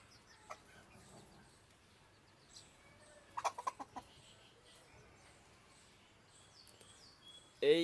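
Young desi chickens on a farm give a few soft, faint clucks and a quick cluster of short calls midway, with a louder squawk at the very end against a quiet background.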